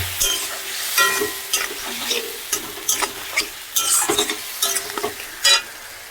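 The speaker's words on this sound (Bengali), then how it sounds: "একটু জল, সামান্য একটু জল দিলাম, মশলাটা লেগে যাচ্ছিল তাই।" A little water goes into sticking masala in a frying pan for a potato, eggplant and koi fish curry, bringing bursts of sizzling broken up by repeated spatula scrapes and light metallic clinks against the pan.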